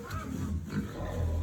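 Pigs kept indoors on a farm in upstate New York in winter, low grunting and snorting close by, steady and fairly loud throughout with no talk.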